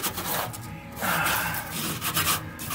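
Fingers scrape and rub loose rust and flaking paint off the body of a 1967 Mustang coupe, a close, dry rasping that comes in short uneven strokes with no voice.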